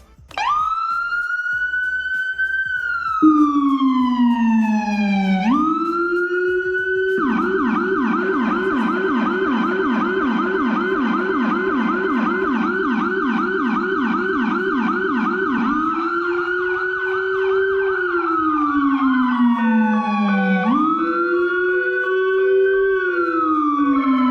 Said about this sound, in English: Very popular request is to go over the Siren Tones again